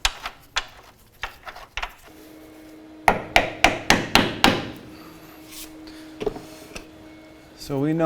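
A hammer taps a lower control arm bolt into place on a 2007-2013 Mitsubishi Outlander front suspension, giving sharp metallic knocks in uneven bursts, including a quick run of five or six strikes, close by with quieter gaps between.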